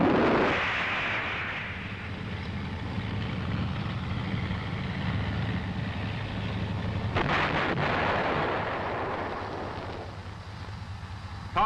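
The main gun of an M551 Sheridan armored reconnaissance vehicle fires with a sharp, heavy blast that rolls into a long echoing boom over the steady rumble of the vehicle's engine, close and loud.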